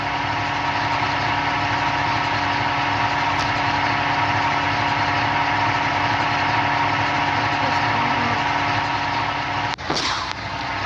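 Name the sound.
jeep engine idling in video game Indian Vehicle Simulator 3D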